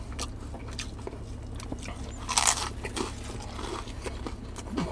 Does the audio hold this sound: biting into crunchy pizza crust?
yes